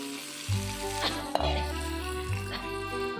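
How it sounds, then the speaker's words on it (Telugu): A sharp hiss of sizzling tempering oil added to cucumber chutney, with a few clinks and scrapes of a spoon mixing in a bowl. "ఈ మిశ్రమంలోకి మనం వేయించుకున్న తాలింపుని యాడ్ చేయాలి"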